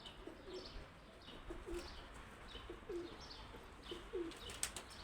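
Pigeons in a backyard coop give soft, repeated low coos at a moderate distance, with occasional chirps and a brief flutter of wings.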